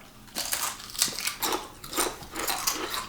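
Crisp crunching bites repeat in an uneven rhythm close up, the sharp crackle of someone chewing brittle salt and vinegar potato chips.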